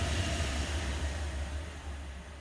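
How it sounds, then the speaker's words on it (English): A train passes right beside a railway line as a loud, continuous rumbling roar with steady low-end drone and broad hiss, slowly fading slightly toward the end, with no talking. "Right next to the railway, hence why you can hear a train going past rather loudly."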